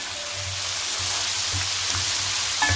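Three medium tomatoes fry in a pan for stuffed baingan, making a continuous close sizzle with soft, regular stirring pulses underneath.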